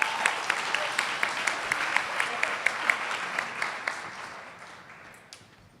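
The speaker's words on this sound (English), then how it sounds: "why don't we give him a round of applause" An audience at an HIV research conference session claps in a sustained round of applause. It is dense and even with a few sharper claps standing out, then gradually fades toward the end.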